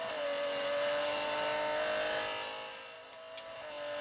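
A Lamborghini Centenario V12 in the Real Racing 3 racing game holds a high, steady rev-limited wail. It eases off near the end with a brief sharp blip, and the sound is loud and alone.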